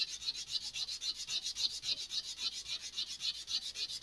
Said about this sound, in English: I'm probably going to go through a decent amount of sandpaper doing this.